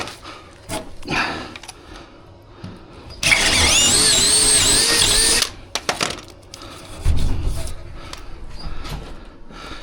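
A power drill with a thicker bit whines loudly for a couple of seconds, pitch wavering as it bites, surrounded by clattering, bumps and scattered handling noise.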